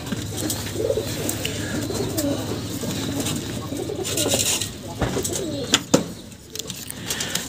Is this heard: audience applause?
no